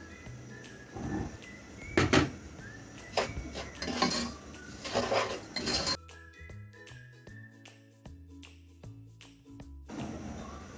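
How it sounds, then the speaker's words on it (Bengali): Semolina is fried and stirred in a pan for a sweet semolina snack with cinnamon and cardamom. A spoon clinks and scrapes against the pan in short bursts, and music takes over partway through. "এর মধ্যে সুজি ভালোভাবে ভেজে নিচ্ছি"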